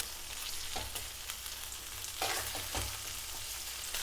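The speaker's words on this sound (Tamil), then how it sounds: "அதனால் அந்த தக்காளியும் முழுசாக போட்டு வதக்குவோம்." Whole tomatoes sautéing in a pan for mutton thanni kozhambu, a steady near sizzle with a few louder bursts of stirring and frying.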